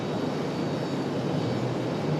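A PSA airliner's jet engines roar steadily during takeoff, a broad continuous rumbling hiss at moderate distance.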